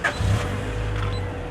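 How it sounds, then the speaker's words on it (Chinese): A Honda Integra DB8 GSR with a B18C engine cranks and fires up close by, giving a brief starter whir followed by a steady, low engine hum. "来，我们来打着这一颗 B18CE"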